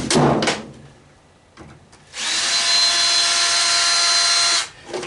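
A power drill backs Phillips head screws out of an old weathered washing machine: a short buzzing whir, a pause with light clicks, then a longer steady whine running close and loud before stopping.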